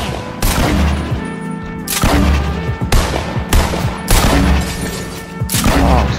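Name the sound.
gunfire in Fortnite video game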